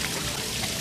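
A small fountain at an aviary attraction trickles and pours steadily, a continuous broadband watery wash with no pauses, close and fairly quiet.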